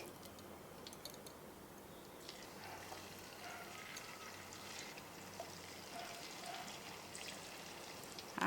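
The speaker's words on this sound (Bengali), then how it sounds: "আর বাদ বাকিগুলো ভেজে নিচ্ছি" Chicken pieces fry in oil in a pan, a faint, continuous crackle and sizzle at low level throughout, with no talking.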